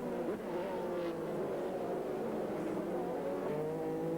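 On-board engine sound from a Le Mans prototype race car at Sears Point in a 2001 American Le Mans Series race: a steady, continuous drone that holds for the whole stretch.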